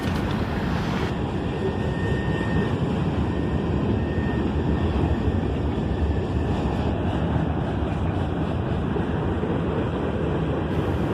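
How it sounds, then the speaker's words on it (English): Freight train Q561, running from Selkirk, New York to Cincinnati, Ohio, rolling past with a steady broad rumble of wheels and cars, continuous and fairly close for the whole stretch. "I was informed later that this train was Q561, running from Selkirk, New York to Cincinnati,"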